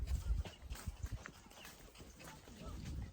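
Faint, irregular hoof clops of horses walking up to a tobacco farm in Cuba, quiet and a little distant, with soft background noise.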